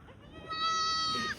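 A goat on a goat farm lets out one clear, drawn-out bleat lasting nearly a second, close and fairly loud, following a brief stretch of faint background murmur.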